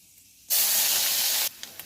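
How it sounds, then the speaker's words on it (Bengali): Onion paste hits hot oil in a pan with five-spice tempering, bursting into a loud, sudden hissing sizzle for about a second before dropping back to a quieter crackle with a couple of light knocks. "এবার আমি দিয়ে দেবো পেঁয়াজ বাটাটা"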